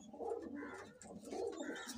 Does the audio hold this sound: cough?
no